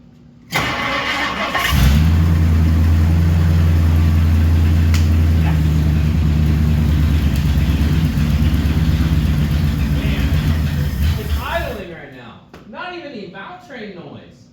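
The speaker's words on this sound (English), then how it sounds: "first start in 30 years" A 1964 Ford Galaxie engine, sitting unrun for 30 years, cranks and fires, then settles into a loud, steady, rough idle for about ten seconds before cutting off, followed by a few people talking.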